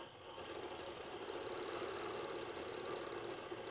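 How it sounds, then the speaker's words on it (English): A longarm quilting machine stitching fabric runs with a steady, continuous mechanical whir and a thin high whine, close and even throughout with no talk. "So I'll turn mine on and I'm going to go ahead and start stitching."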